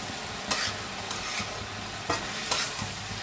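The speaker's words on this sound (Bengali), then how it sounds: "এইভাবে একটু 2-3 মিনিট একটু নাড়বো, নেড়ে নামিয়ে দেবো" A spoon stirs bottle gourd and lentil curry in a pan, giving a few sharp scraping strokes spaced about a second apart over a quiet, steady simmer.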